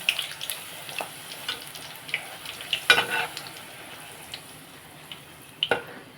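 Puri fries in hot oil with a close, continuous crackling sizzle, broken by occasional sharp pops and scraping clicks as the dough is turned.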